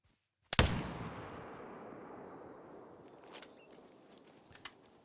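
A single sharp rifle shot fired at a fallow deer in theHunter: Call of the Wild on the Emerald Coast map cracks loudly, then rolls off in a long fading echo with faint scattered knocks afterward.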